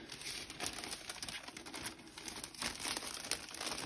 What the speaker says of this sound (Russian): Вот такие у меня идут пакеты с клейкой лентой.